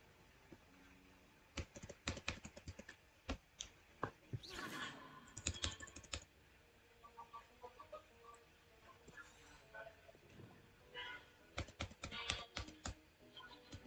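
Computer keyboard keys pressed while playing Hogwarts Legacy, a series of sharp irregular clicks in bursts and quick runs, close but fairly quiet, with a faint game sound in the background.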